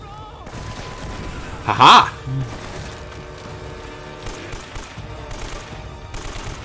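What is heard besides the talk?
turret gunfire in the video game Uncharted: Drake's Fortune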